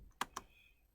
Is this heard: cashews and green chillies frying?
no